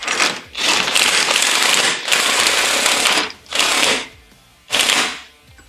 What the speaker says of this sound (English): give me that impact gun. Let's get this done